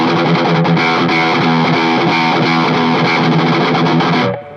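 Blackmachine B6 electric guitar played through a heavily distorted modern metal tone, loud chugging riff with ringing sustained chords that cuts off abruptly at the end.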